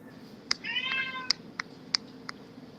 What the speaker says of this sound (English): I hear kitty.